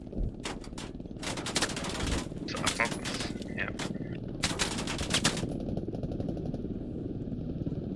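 A machine gun fired from a Black Hawk helicopter in the military shooter Squad, loud rapid bursts of automatic fire stuttering in several volleys over a constant rotor drone, with voices talking beneath.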